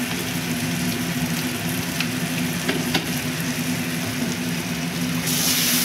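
Turmeric and coriander powder are stirred in a hot pan for mixed dal, with a steady loud sizzle and faint scraping throughout, no voices.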